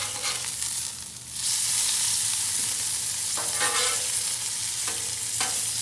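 Bacon sizzles on a Blackstone griddle set to low, a steady close crackling hiss with a few brief louder flares of spatter, no talking.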